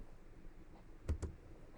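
Two quick, faint computer mouse clicks in close succession against a quiet background.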